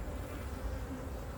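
Honey bees held in a queen bank hive hum with a dense, continuous buzz, close and steady with no pauses.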